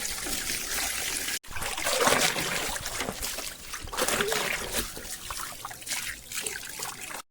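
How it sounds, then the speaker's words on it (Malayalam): Water runs and splashes steadily while a towel and a comb are washed by hand, giving a close, continuous trickling and sloshing with one brief cut, and no talk. "ഡയാനയുടെ തോർത്തും അതുപോലെ തന്നെ ആ ഒരു ചീപ്പൊക്കെ ഒന്ന് കഴുകി വൃത്തിയാക്കി വയ്ക്കാം"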